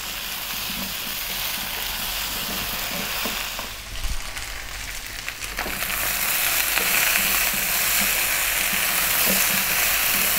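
Chunks of stewing beef fry on a lively heat in a pan, giving a steady close sizzle with scraping stir movements throughout, growing slightly louder in the second half.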